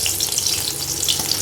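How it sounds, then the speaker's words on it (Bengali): Crushed garlic cloves sizzle and crackle in hot oil for chilli chicken, a loud, close, continuous frying hiss with no talk. "এবার আমি আগে রসুনটা তেলে দেব"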